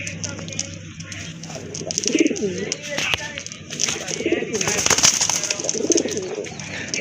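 A pair of pigeons coo in soft, repeated throaty calls at a market stall. People talk and background noise sits under them.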